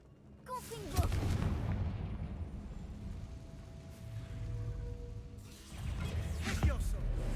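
A Confringo fire spell blasts in Hogwarts Legacy, booming explosive impacts at the start and end with a rumbling sustained roar between.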